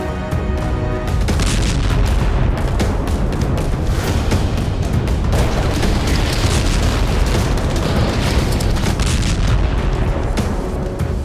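Night-time explosions over the Kerch Strait off Crimea make a loud, dense roar of booms and rumbling bursts that runs without a break for about eleven seconds, with no voices.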